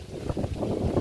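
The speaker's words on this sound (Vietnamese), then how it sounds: "Hôm nay biển biển động nha quý vị." Gusty wind over a rough sea, rumbling and buffeting the microphone in low, uneven surges for about a second with no voices.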